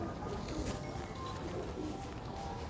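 Pigeons of a strong bloodline coo softly amid a dense, constant background hum, low and steady with no distinct bursts standing out.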